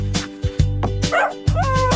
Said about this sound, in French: le chien aboyait doucement et joyeusement